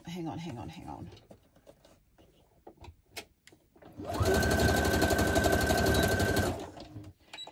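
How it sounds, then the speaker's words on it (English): A sewing machine runs a burst of stitches through paper card for crafted ephemera: a loud, fast mechanical whirr lasting a couple of seconds after scattered handling taps and a brief voice. "I'm just going to run a little stitch down there."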